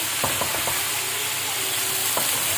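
Chicken fries in a pan for chicken qorma, a dense steady sizzle close by, with a few light stirring knocks in the first second and another near the end.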